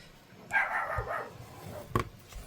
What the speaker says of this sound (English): And he likes to bark at the ghosts.